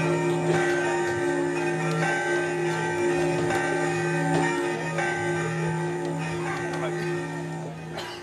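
A midnight church bell rings out over a town during a traditional folk carnival festival, its steady sustained tolling filling the whole stretch with a continuous droning, slightly distant resonance.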